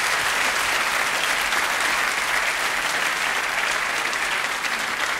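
A studio audience at a German TV game show applauds the second- and third-place championship teams with thick, even clapping that holds at full strength throughout, close and loud with no talk.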